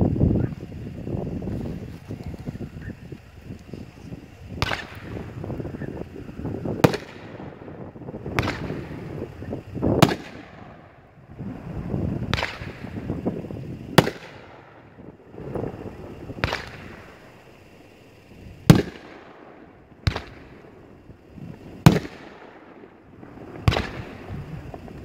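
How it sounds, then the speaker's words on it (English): Magnus The Lucky One, a 9-shot 500 gram fireworks cake, fires outdoors: sharp launch cracks and bursts spaced a couple of seconds apart, loud and fairly near, with wind noise and rumbling echoes between shots. "this is a cake called The Lucky One from Magnus. It's a 9-shot, 500 gram."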